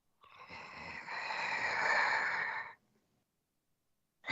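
A voice imitates the shuddering heavy breathing of a sleeping mutant wolf in a cave, one long rasping, snore-like breath that swells and fades, then silence.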